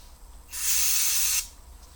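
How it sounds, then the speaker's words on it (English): Brake cleaner sprayed onto the rear brake drum of a 1999 Citroen Saxo, heard as one loud, steady aerosol hiss lasting about a second, close to the microphone and alone. "So you want to clean it off with some brake cleaner, make sure it's nice and clean"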